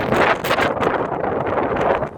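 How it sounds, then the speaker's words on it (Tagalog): Gusts of wind buffet the microphone in loud, rumbling bursts that rise and fall over a couple of seconds. "Mahangin, hindi maganda."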